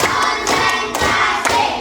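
A group in a classroom claps together in an ice-breaking clap game. Several sharp, reverberant hand claps land in an even rhythm, loud and unaccompanied by talk.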